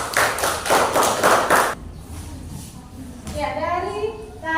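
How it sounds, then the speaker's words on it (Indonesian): Classroom applause for a student group in an Indonesian teacher-training session: a burst of clapping from the class lasting under two seconds, followed by quieter room noise and a voice speaking. "Berikan aplaus kepada kelompok 4"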